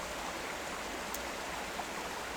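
Steady rush of flowing water at a landscape photography spot, a constant, even broadband wash that stays close and fills the whole moment without any talking.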